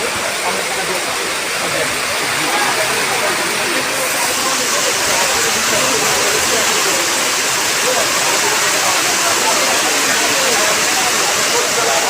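Heavy rain pours steadily at a wholesale fish market, a dense, continuous roar of downpour holding loud and unbroken from start to finish.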